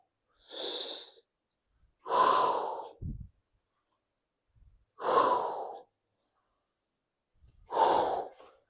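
Slow, deliberate breaths during a hip-hinge core exercise, four separate airy inhales and exhales spaced a couple of seconds apart, close and clear against silence.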